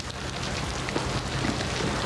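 Steady rain falls across the whole stretch, a dense continuous hiss of drops on surfaces with no pauses and no voices.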